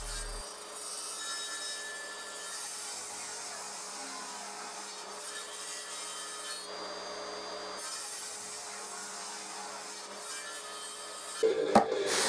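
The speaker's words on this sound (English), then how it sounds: "And then I cut each panel into strips." A power saw cuts salvaged oak panels into strips in a workshop, a steady continuous whining buzz holding for about eleven seconds before a brief knock and clatter at the end, close and moderately loud.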